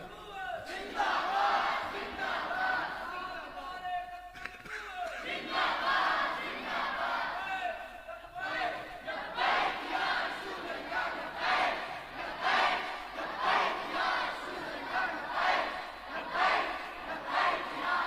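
A crowd at a naat gathering chants religious slogans in loud, rhythmic bursts of many voices, rising and falling in waves with brief pauses between calls, reverberant and energetic throughout.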